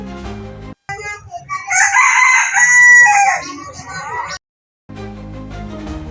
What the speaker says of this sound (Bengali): ডাকও বদলে গিয়ে হয়ে যায় মোরগের মতো খক খক শব্দ